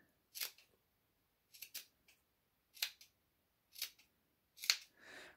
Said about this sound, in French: Après, on va découper.